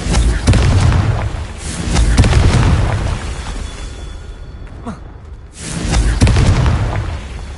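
Confringo blasting spells explode in Hogwarts Legacy on PlayStation 4 Pro, loud booming bursts at the start, another swelling blast around two seconds, a quieter stretch, then a fresh heavy explosion near six seconds.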